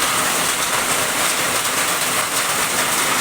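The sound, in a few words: heavy rain falling at night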